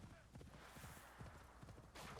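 Horse hooves clip-clop in the video game Assassin's Creed Shadows, a steady walking rhythm of soft repeated hoofbeats under a dense, noisy in-game ambience.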